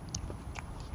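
Fries being chewed close up, a few soft crunchy bites in quick succession at low volume, with no talking.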